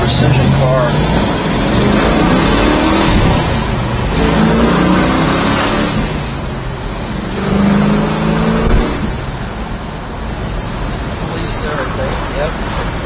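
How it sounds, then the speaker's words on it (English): A 1966 Chevrolet Chevelle engine runs steadily and loud throughout, its drone rising and falling with revs as someone talks over it inside the car. "Car running nice and cool temperature-wise."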